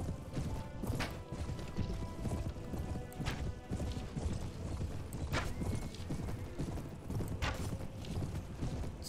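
Cavalry horses charging in Mount & Blade Warband, a dense, continuous rumble of many hooves clip-clopping with occasional whinnies and clashing impacts, steady and moderately loud throughout.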